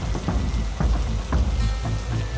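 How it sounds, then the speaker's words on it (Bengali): Steady rain pattering down in an animated story scene, a dense continuous wash of drops with soft irregular thuds, moderately loud and without speech. "তখনও ঝুপঝুপ করে বৃষ্টি পড়ছে"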